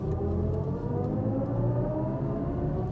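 A BMW i5 eDrive40 electric car accelerating hard, a steady rising whir and road roar that stays loud and close for a few seconds without any talking.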